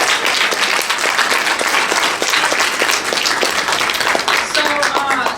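Audience at a community event on resisting the prison industrial complex clapping loudly and steadily, a dense close round of applause that holds for several seconds, with a voice briefly audible near the end.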